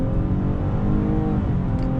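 A 2019 Nissan Maxima Platinum's engine roars steadily and loudly, revving hard as it accelerates, with a dense low growl and no voices.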